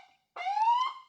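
A short rising electronic 'whale' siren tone from an ambulance siren system, with a slight upward glide, loud and close, preceded by a brief fainter tone.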